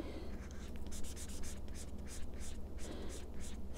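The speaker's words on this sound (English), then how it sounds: "marks going all the way across that 2-inch piece of paper" A magic marker is dragged across a strip of paper in quick, repeated scratchy strokes, close and fairly soft, with a steady rhythm of short bursts.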